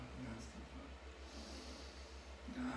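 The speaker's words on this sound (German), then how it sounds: "Ganz tief atmen, ganz tief atmen." A person in a hypnosis session breathes deeply, with slow, soft breaths and snort-like exhalations over a low steady hum in a quiet room.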